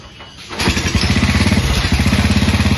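A motorcycle engine starts after a brief quiet moment and settles into a loud, close, steadily pulsing run, with no voices over it.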